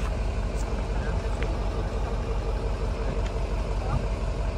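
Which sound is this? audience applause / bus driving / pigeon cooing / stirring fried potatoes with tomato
bus driving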